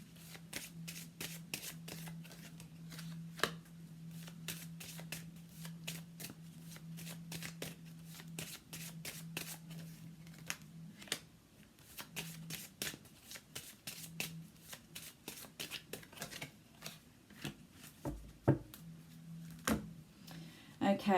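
Tarot cards shuffled continuously by hand for about twenty seconds, a dense run of crisp riffling flicks over a steady low hum, with brief pauses and a few sharper card snaps near the end.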